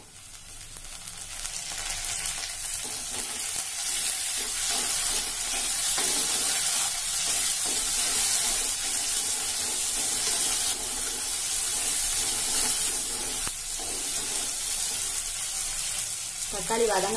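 Tomatoes sauté with onion and garlic in a pan, a dense, even hiss of frying that runs steadily and fairly loud, with a brief stir near the end.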